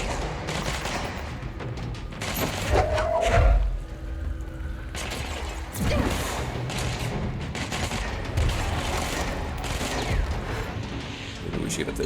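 Sniper and other gunfire in the video game Control, a burst of sharp shots and impacts mixed with game effects and a low boom, heard under a voice talking throughout.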